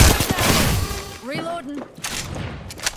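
Enemy gunfire in Apex Legends, a rapid burst of loud shots up front that trails into scattered cracks and impacts, with game voice chatter and tonal effects layered over the fight.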